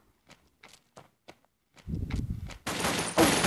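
Gunfire in the Pixel Gun shooter game: a few sparse light taps, then a dense burst of rapid shots that swells into a loud, sustained volley near the end.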